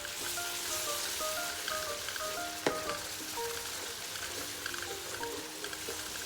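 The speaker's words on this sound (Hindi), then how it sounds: "अब हम इसमें अदरक लहसुन को अच्छी तरह भून लेंगे।" Onions with ginger-garlic paste fry in oil for a dagi-style korma, giving a steady, dense sizzle throughout with one sharp utensil clink midway. No one speaks.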